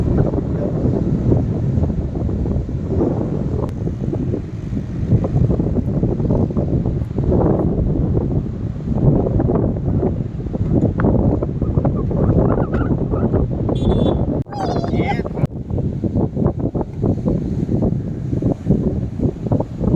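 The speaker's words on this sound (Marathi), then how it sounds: "ही बघा समुद्र कोकणातली मजा" Strong wind buffets the microphone nonstop at Aravi beach on the Konkan coast, with the wash of sea surf rumbling faintly beneath the gusts throughout.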